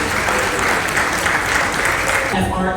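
Passengers aboard the Explora 2 cruise ship give senior officers a loud round of applause, dense clapping that carries on under a voice talking and tapers near the end.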